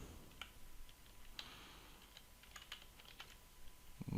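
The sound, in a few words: computer keyboard typing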